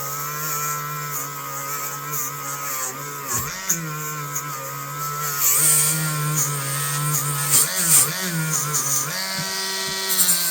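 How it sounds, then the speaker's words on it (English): A Dremel rotary tool cleans the blade of a vintage camp knife, giving a close, high motor whine whose pitch dips and wavers as the tool presses and lifts against the steel. "And there you can see how quickly you can do to the Dremel."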